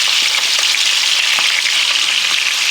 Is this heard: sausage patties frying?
yes